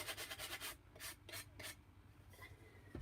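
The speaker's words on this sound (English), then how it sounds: "I had out a new sanding block." Sanding block rasping across a cut pumpkin surface in short, quiet back-and-forth strokes, several quick rubs then a pause and a couple more, close and alone.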